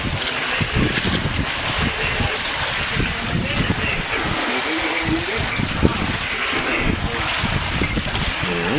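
Boat riding rough, choppy seas in a strong monsoon wind, with loud steady wind rush and wave wash throughout and scattered low thumps from the hull, while a voice talks over it.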